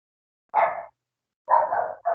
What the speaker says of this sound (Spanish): no se oye mucho el perro.